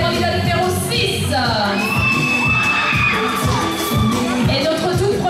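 An audience at the Miss Cameroun Suisse 2016 pageant final claps and cheers loudly and continuously, with whoops and excited shouts rising over dense applause.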